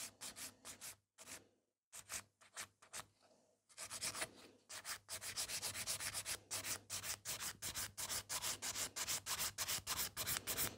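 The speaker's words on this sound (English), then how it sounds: "So still keep filing." A nail file rasps in quick, rhythmic back-and-forth strokes across a gel sculpted French nail, close and crisp, with brief pauses before the filing settles into a steady fast pattern.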